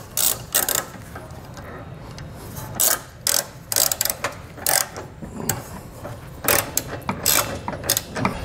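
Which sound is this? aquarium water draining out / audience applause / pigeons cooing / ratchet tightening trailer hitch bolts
ratchet tightening trailer hitch bolts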